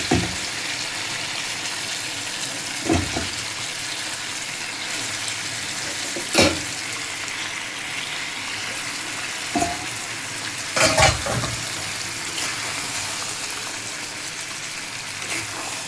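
Fish sizzles steadily in a hot frying pan while a spatula stirs it, with sharp scraping clatters breaking through the constant frying hiss every few seconds.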